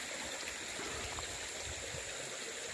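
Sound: small stream of water flowing

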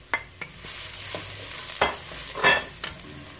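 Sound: onion sizzling in hot pan

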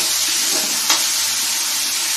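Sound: onions frying in a pan for masoor dal

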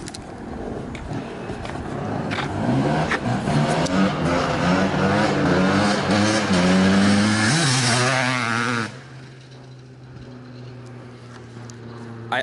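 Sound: 1997 KTM 360SX dirt bike engine revving

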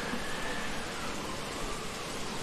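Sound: strong dust storm wind

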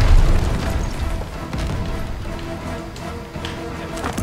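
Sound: tank being blown up in video game Call of Duty Vanguard

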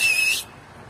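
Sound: human whistling to call someone

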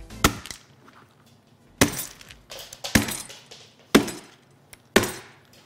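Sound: walnut being smashed with a BQ 5022 Bond smartphone screen

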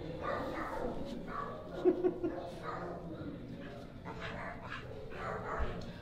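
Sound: dog playing and whimpering

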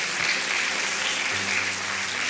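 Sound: church congregation applauding

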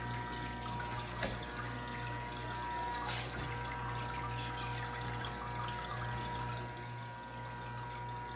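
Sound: water dripping down in an ice machine

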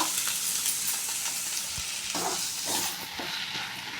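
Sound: stirring onion fry in pan

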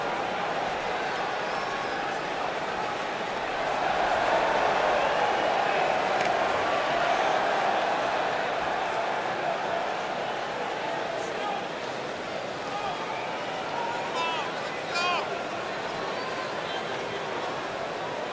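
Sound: wrestling crowd cheering

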